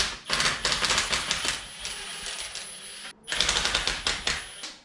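Rapid, loud rattling bursts from a power tool removing 12mm bolts from a 40-series Landcruiser transfer case, two long runs of close mechanical chatter separated by a brief pause.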